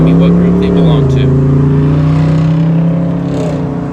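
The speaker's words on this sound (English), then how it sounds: "The guy's a big engine in that car." A car with a big engine drives past nearby, its loud steady engine note rising and then easing off as it goes by.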